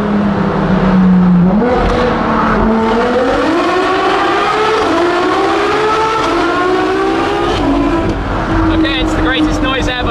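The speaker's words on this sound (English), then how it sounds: "A straight pipe LaFerrari, a Ferrari V12. Going fully on it." Ferrari LaFerrari V12 with a straight pipe exhaust at full throttle, a loud, continuous engine scream with rising pitch sweeps through the gears, echoing as if inside a tunnel.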